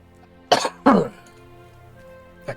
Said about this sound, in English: That cough was my divine punishment for that joke.